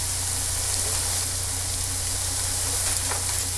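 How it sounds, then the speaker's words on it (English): German potato pancakes sizzle in hot oil in a pan with a loud, steady, dense crackle and a low hum underneath, heard alone with no speech. "Cakes are frying up really well."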